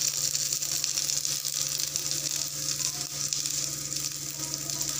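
Panch phoron spices sizzle in a small amount of hot oil while cooking an Assamese taro-leaf stir-fry, a steady, close frying hiss that holds without a break throughout, with no voices.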